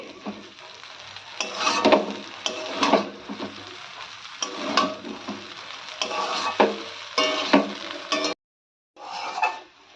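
Vegetable chowmein noodles stir-fried in a pan, sizzling with repeated scraping and tossing strokes of a spatula in bursts, briefly pausing before resuming.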